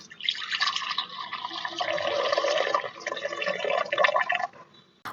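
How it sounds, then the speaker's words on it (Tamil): Tamarind water is strained and poured into a vessel, a continuous splashing trickle that lasts several seconds and then tapers off, with no talking. "இந்த புளியை நல்லா கரைச்சிட்டு இதை வடிகட்டிட்டு புளி தண்ணியை மட்டும்"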